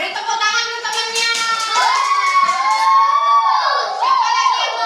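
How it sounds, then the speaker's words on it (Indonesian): Children in a classroom clap for a classmate, a burst of brisk hand claps with young voices shouting and talking over it, close and fairly loud. "beri tepuk tangan ke temannya"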